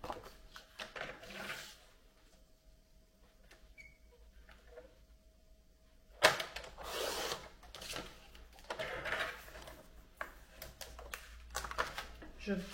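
Scrapbook paper traced along a ruler and then cut, a series of soft scratchy pencil strokes followed by louder crisp cutting sounds, under someone speaking in French.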